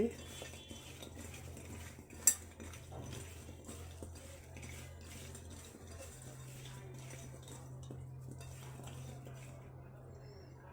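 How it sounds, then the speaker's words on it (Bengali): Chicken is mixed with food colour and sugar for marinating, with quiet scraping, stirring and clinking of utensils against a bowl, one sharp clink standing out early. "সামান্য ফুড কালার দিয়ে দিচ্ছি ম্যারিনেট করে নিচ্ছি"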